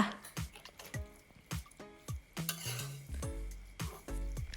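A sweet filling of beans and sticky rice is stir-fried with spring onions in a metal pan for traditional khanom mat tai. Quiet, irregular spatula clanks ring against the pan under a faint sizzle.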